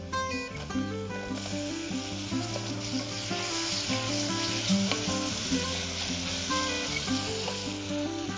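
Finely chopped tomatoes frying in oil for a Chettinad chicken biryani give a steady, close sizzle that runs throughout, with tonal background music layered underneath and no talking.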